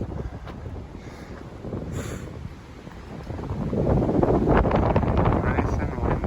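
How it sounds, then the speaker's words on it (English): Wind blows hard across a hilltop at a nature preserve in March, roaring and buffeting the microphone in loud gusts that build stronger toward the end. "Nice and windy today."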